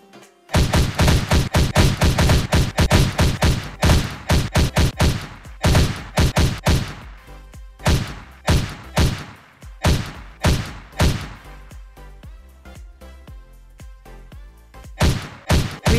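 Gunfire in a VR multiplayer shooter game, loud rapid bursts of shots in quick succession, then sparser single and double shots with short gaps, close and punchy.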